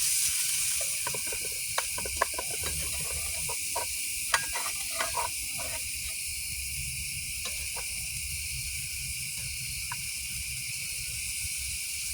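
Hamburger patty frying at a campsite, a steady broadband sizzle and hiss running the whole time with scattered small pops and crackles, close and fairly loud, no talking.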